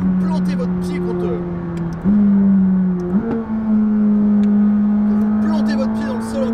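A McLaren 600LT supercar engine pulls hard under acceleration, its steady drone climbing in two sharp steps as the gears shift, loud and close from inside the cabin with no talk.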